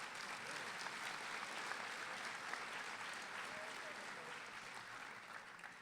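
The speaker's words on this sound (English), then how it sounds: "Let's clap one more time." Crowd applause at a 2012 college commencement ceremony, a broad, even wash of many hands clapping, heard at a distance and fairly faint, sustained throughout without letting up.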